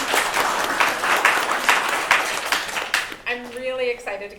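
Audience applause for a panel on workplace culture: a dense, steady wash of clapping from a room of people for about three seconds, then it cuts off and a voice begins speaking.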